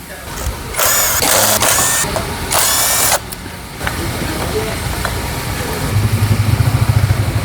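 A Kawasaki motorcycle engine with a suspected clutch fault, heard close and loud. Harsh bursts come early, then it settles into an idle with a rough rhythmic pulsing near the end.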